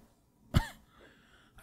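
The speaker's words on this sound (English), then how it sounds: "attractive way of coughing?" A man gives one sharp, close cough followed by a rough throat-clearing rasp, then quiet, in an intimate indoor setting.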